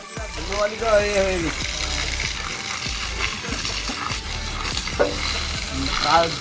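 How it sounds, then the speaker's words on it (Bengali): Water sprays and runs while a drain or corner is cleaned and black dirty water flows out, a steady close rush mixed with scraping and clattering, with people talking over it. "জল দিলাম, কালো জল বেরিয়ে এলো"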